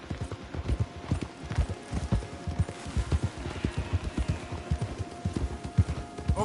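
Horses gallop hard through woods in the video game Red Dead Redemption 2, a fast, dense clip-clop of hooves close by with several animals running together.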